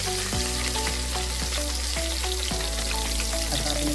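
Mutton fat fries in hot oil with a loud, continuous sizzle and crackle, occasional clinks of stirring over a low steady hum.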